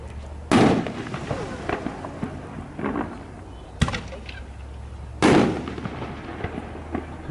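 FMJ artillery shell fireworks fired during a big night demo in Kansas: two loud, sharp launch thumps about five seconds apart, with crackling bursts and pops between them and faint voices in the background.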